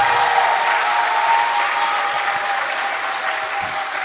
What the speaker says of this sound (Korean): 박수 세게 칠 준비해봐요